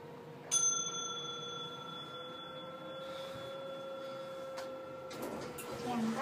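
A Hitachi traction lift in Jakarta sounds a sharp electronic chime bell with a sustained ringing tone that lingers over the hum of the car, and someone speaks briefly.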